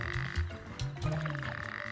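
Male toad in wild Arabia calling, a series of short, croaking pulses repeated at close range and alone.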